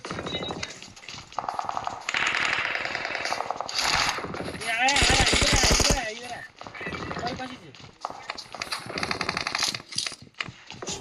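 Gunfire in the mobile game BGMI comes in rapid automatic bursts and single shots, loud and close, with excited voices talking over it.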